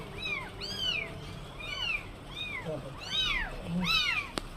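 Three orphaned kittens meow repeatedly, high thin rising-falling cries overlapping one another at close range, followed by a sharp tap.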